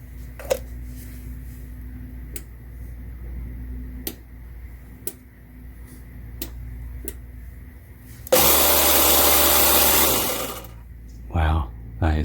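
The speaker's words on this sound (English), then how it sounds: "It's my air compressor." An air compressor kicks on with a loud, steady broadband roar for about two seconds and then cuts off, after a stretch of quiet ticking and low hum from a workshop where someone is servicing a 12v lead acid battery.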